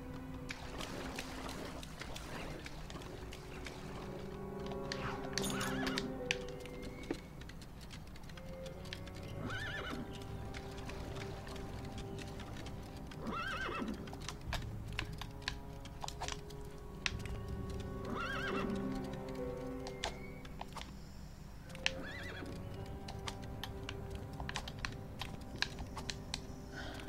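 Repeated horse whinnies ring out over steady clip-clopping hooves in LEGO Indiana Jones 2: The Adventure Continues, with a constant background hum and clicking throughout.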